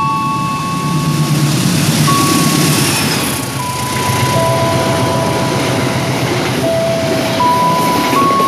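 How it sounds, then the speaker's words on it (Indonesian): A train rolls straight through Cibitung station in Indonesia without stopping, a loud, steady close rumble of wheels on rails with sustained high tonal whines over it, heard alone with no talk. "Jalur satu kereta api melintas langsung."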